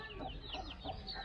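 Small ducklings at a pond built for ducks give faint, high, rising peeps in a quick series, heard at a distance over low background noise.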